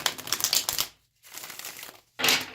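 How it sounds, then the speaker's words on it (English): Two bursts of papery riffling and flapping, tarot cards being shuffled, separated by a brief silence, close and fairly loud. "let's do one more shuffle"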